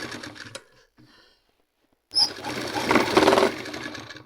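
A sewing machine stitches the edge of a kameez collar in short bursts, then runs in a steady, close whirring buzz for about two seconds after a brief pause.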